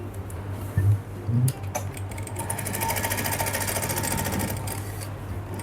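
A sewing machine stitches the cuff of a salwar with cut work, giving a fast steady mechanical rattle that runs for several seconds after a couple of short thumps, close and loud.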